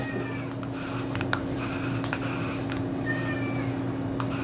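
A cat meows repeatedly, several short, clear calls spread across a few seconds, heard over a constant low electrical hum in a quiet indoor room.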